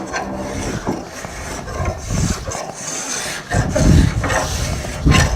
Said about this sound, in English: I'm going to hold the spoke shave, kind of skewing it. It has a kind of planing effect.